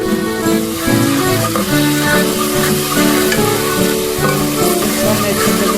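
Chopped tomatoes and green chillies fry in a pan for a mixed vegetable dish, giving a loud, continuous sizzle with scraping stirs throughout and no talking.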